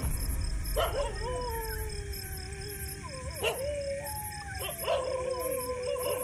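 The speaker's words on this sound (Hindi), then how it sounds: "चारों तरफ से कुत्ते भौंक रहे हैं" Dogs howl and bark at night, several long wavering howls rising and falling from a distance with occasional sharp barks, fairly faint over a dull background hiss.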